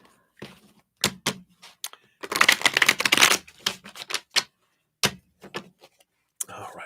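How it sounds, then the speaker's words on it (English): Deck of tarot-style reading cards being shuffled, close up: a run of sharp crisp taps and snaps, then a dense riffling burst, followed by more scattered card clicks, with no talking. "Let me shuffle these up here"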